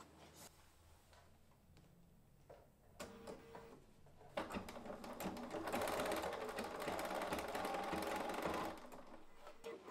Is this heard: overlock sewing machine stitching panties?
yes